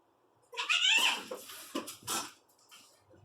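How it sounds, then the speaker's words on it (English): Two cats fighting in the background, letting out loud, strained yowls and snarling cries in several bursts over about two seconds, then fading to quiet. "And you hear cats arguing in the background."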